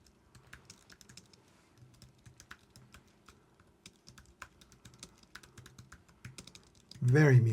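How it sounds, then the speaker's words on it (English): Keystrokes on a Keychron K2 HE keyboard tap in a steady, fairly quiet run of muted clicks, with a short louder burst of sound near the end. "it's a solid keyboard."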